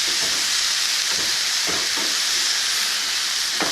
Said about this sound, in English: you can hear that it's gone back to frying and not steaming.